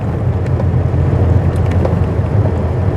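A car that resembles a Citroën DS, driven hard with the accelerator floored, rumbles with a low, uneven engine drone that coughs and splutters, loud and close inside the cabin with no talking.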